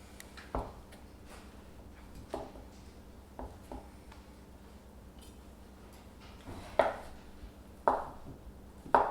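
Cheese being cubed with a knife on a cutting board, a handful of sharp, separate chops spaced irregularly, the later ones louder, in a quiet room.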